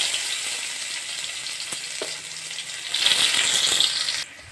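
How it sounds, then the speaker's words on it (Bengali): Chopped onion drops into hot oil with radhuni, five-spice, bay leaf and cumin, hissing in a steady close sizzle that flares louder for a moment before cutting off abruptly. "এবারে দিয়ে দিচ্ছি পেঁয়াজ কুচি"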